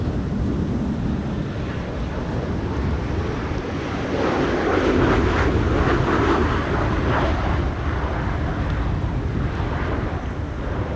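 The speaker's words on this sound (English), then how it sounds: "This is KLM 1352. Embraer 190 arriving from Prague." An Embraer 190 jet airliner, arriving from Prague at Amsterdam Schiphol during a windstorm, roars steadily with engine noise swelling in the middle, mixed with heavy wind buffeting the microphone; no one speaks.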